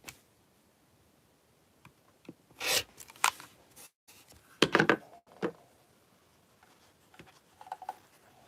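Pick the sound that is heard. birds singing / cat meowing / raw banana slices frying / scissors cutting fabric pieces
scissors cutting fabric pieces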